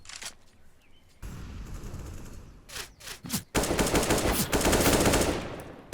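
Rapid automatic gunfire from a Counter-Strike match on Inferno or Cache rattles loudly in several bursts, the longest and densest volley filling the second half.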